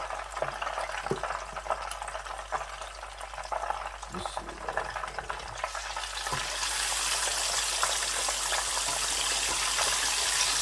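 Chicken pieces fry in deep oil with a close, bubbling crackle and sizzle that grows louder and more constant in the second half, while a voice speaks early on.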